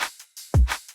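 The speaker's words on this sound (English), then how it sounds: "I'm going to copy this snare and reverse it like this." Short electronic drum-and-bass pattern with a swelling reversed snare burst that surges into a deep, booming kick-like hit, then more crisp hits trail off.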